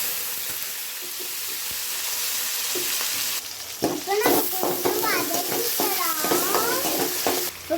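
Potatoes dropped into hot oil with fennel seeds and curry leaves sizzle and crackle loudly after a quieter start, with stirring and a voice in the background.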